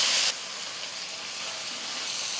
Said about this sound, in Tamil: வேக வச்ச வாழைக்காவை இந்த எண்ணெயில் சேர்த்துக்கலாம்